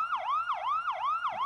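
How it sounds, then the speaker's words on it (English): Emergency sirens wail in a steady repeating rise-and-fall, several cycles in quick succession, moderately loud with no talking over them. "Is that sirens I hear?"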